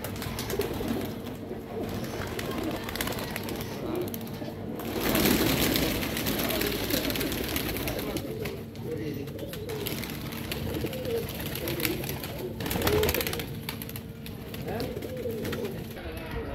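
Teddy pigeons, a breeding pair in an open breeding setup, coo softly and repeatedly under steady background hum, with someone speaking over the calls at moderate distance.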